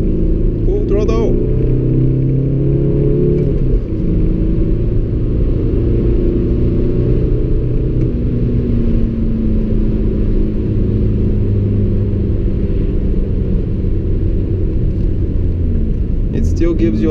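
Audi A3 1.9 TDI 8L diesel hatchback, remapped and accelerating at full throttle on an extra-urban road, heard from inside the noisy cabin as a loud, deep engine drone and rumble that climbs steadily through the revs.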